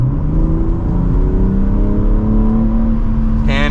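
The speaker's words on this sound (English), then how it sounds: "Let's give it some gas here." A 2024 BMW M3 Competition accelerating from the driver's seat, engine drone rising steadily in pitch as it pulls through the gear, loud and continuous, with no talking.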